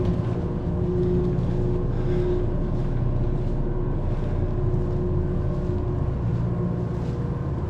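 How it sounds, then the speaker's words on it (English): Snow tractor with heavy-grip wheels and a load of ice melter, working to clear snow after a storm in Canada: a steady, continuous engine drone with low rumble and some wind noise, unbroken for the whole stretch, with no talk. "There's even a snow tractor there."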